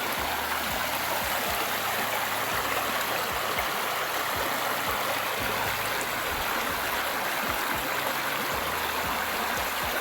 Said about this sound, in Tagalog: marirelax ka sa gantong tunog ng mga agos ng ilog